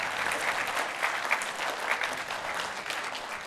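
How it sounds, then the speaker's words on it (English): Crowd applause at a mayoral town hall meeting, dense clapping from an audience in a room, fairly soft and continuous for a few seconds with no speech over it. "give yourselves a round of applause for being here tonight"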